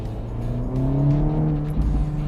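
A 2024 Acura Integra Type S, a 320-horsepower car, with a steady engine drone whose pitch climbs smoothly as it revs, heard close and continuous for a couple of seconds without any talking.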